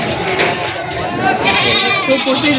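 Bucks at a livestock market cry out in wavering bleats, loud and close, mixed in among people talking over the animals.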